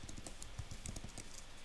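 Rapid, uneven keystrokes on a computer keyboard during network automation configuration work, close and fairly quiet, with irregular clicks scattered across the whole stretch and no voices.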